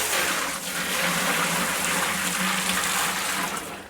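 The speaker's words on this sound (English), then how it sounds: "just want to give this a quick rinse with Starsan" Homebrew brewing equipment being rinsed with Star San sanitizer, a loud, close, continuous rush and splash of running water lasting a few seconds, with no talking.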